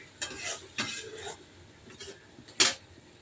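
Spice masala frying in oil in a pan, stirred with a utensil in a few separate scraping strokes that bring quiet clinks against the pan over a faint sizzle.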